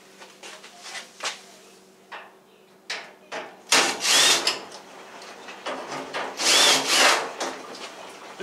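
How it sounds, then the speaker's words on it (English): Screws are worked out of a panel on a Whirlpool WED85HEF dryer, a series of short scraping turns and rubs, then two louder, longer bursts of grinding friction heard close, with no talking. "Okay, next I'll take those four screws I showed you out."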